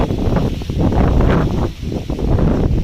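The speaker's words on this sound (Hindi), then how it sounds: "बहुत ही ज़्यादा तेज़ हवाएं चल रही हैं।" Strong wind roaring and buffeting close to the microphone, a loud continuous rumble with gusting surges and rustling.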